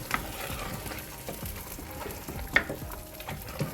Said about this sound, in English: And then we're gonna give it a stir.